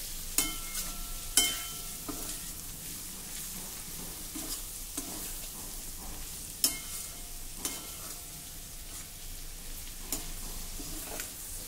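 Ginger, garlic and masala sauté in a pan with a continuous soft sizzle. A spatula scrapes and knocks against the pan at irregular intervals, with several sharp taps standing out.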